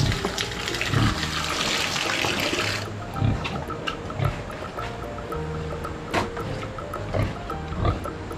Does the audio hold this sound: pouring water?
yes